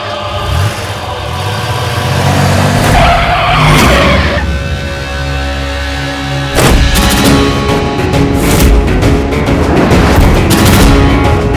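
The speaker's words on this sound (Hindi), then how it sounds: "गाड़ी चलाओ।" A car pulls away with tires skidding and squealing, a loud burst of engine and tire noise rising around the four-second mark and again near seven seconds, alone with no talk.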